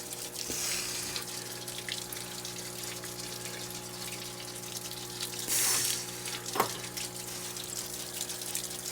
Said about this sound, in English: Okay, let's turn the water on.